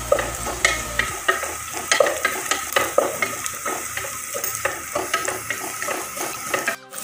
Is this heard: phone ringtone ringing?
no